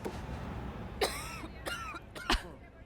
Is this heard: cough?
yes